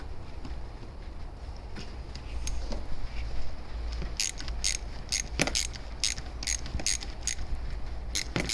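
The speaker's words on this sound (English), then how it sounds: "what you need for the job is a ratchet, an extension arm, a wobble head, and a 12mm socket" A ratchet with an extension and 12mm socket works a bolt loose under a Mazda MX-5 Miata, giving rapid clicking bursts repeated several times over a steady background hum.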